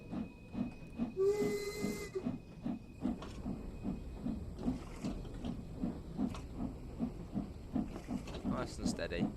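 A steam locomotive in the video game Train Sim World 3 chuffs in a steady rhythmic beat, with a burst of hissing steam early on and further hisses later, while someone talks over it.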